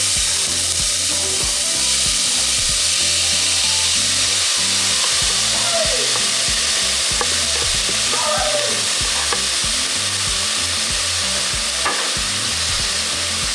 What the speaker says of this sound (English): once it's hot, we're going to add our onions and tomatoes.